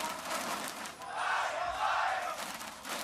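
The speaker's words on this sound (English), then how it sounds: "The crowd loves it." An esports arena crowd at an MSI match roaring and chanting in a sustained, swelling wave that stays loud and distant-sounding throughout.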